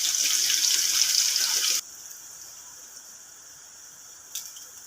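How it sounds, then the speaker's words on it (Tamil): Water poured steadily into salt and turmeric powder for mixing while preparing banana chips, a close hissing stream that stops abruptly, followed by quiet and a faint small splash. "இது வந்து என்னென்னா உப்பு மஞ்சத்தூளும் ஒரு அரை ஸ்பூன் எடுத்து கலந்து வச்சுருக்கேன் தண்ணி ஊற்றி"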